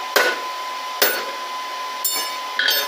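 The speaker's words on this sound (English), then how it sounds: "squeeze it tight, and then hammer down" A hammer strikes down on hot blacksmith tongs made from scrap rebar, their jaws clamped on rebar stock: four sharp metallic blows with ringing clinks, spaced about a second apart, close up with no talk.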